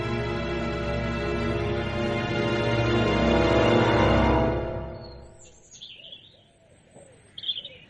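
Doves cooing around a dovecote, soft bird calls and chirps that come in faint and scattered after a long, loud sustained tonal passage fades out.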